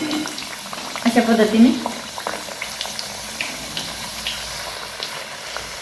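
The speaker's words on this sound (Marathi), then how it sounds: "असे दोन्हीकडून आलटून पलटून छान गोल्डन कलर येईपर्यंत तळून घ्यायचं आहे" Puris frying in hot oil for pani puri, a soft steady sizzle with a brief louder bubbling burst near the start, under a voice speaking Marathi.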